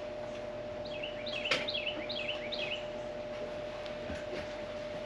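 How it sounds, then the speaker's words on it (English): Small birds sing a series of quick descending chirps at moderate distance over a steady low hum, with one sharp click midway. "That's why we can hear the birds."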